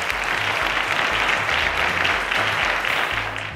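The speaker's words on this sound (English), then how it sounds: "A round of applause to Victor." A studio audience at a quiz show applauds steadily, a dense wash of clapping hands that holds at full strength throughout with no talk over it.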